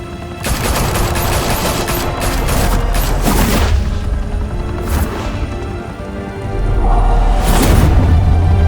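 Sustained gunfire in the Batman: The Telltale Series video game, with dense overlapping bursts of automatic weapons and loud booming impacts filling the whole stretch, swelling again near the end.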